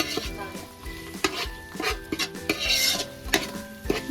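Chicken mixed in a pot for biryani: a spoon scrapes and clatters against the metal in repeated strokes, close and loud, with a steady sizzle underneath.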